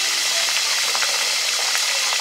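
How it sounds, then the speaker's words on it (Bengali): Cauliflower steaming in a covered pan gives a loud, constant broadband hiss of escaping steam with faint clinks and rattles mixed in, heard close and without a break. "ফুলকপিটা ভাপিয়ে নিচ্ছি"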